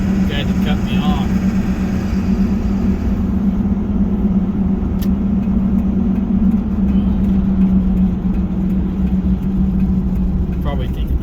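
Pickup truck engine driving on a highway in winter, its low steady drone and road rumble continuous and close throughout, sluggish as if about to stall, with a voice talking over it.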